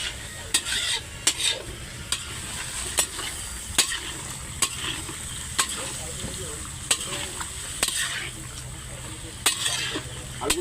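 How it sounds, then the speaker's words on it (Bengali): Meat curry being stirred in a pan, a spoon scraping and knocking against the metal at a steady, repeated rhythm over a soft continuous sizzle, close and fairly loud, with faint talk in the background. "নাড়া দিও"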